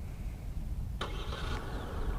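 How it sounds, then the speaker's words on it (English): A Genesis GV70 SUV's engine remote-starts with one sudden crank and catch about a second in, settling into a steady idle behind faint outdoor background noise. "and start the engine,"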